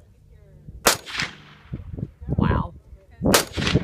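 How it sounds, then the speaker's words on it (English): A P90 submachine gun firing at an outdoor shooting range: several loud, sharp close reports spaced a second or so apart, with a person briefly exclaiming between shots. "This is a submachine gun."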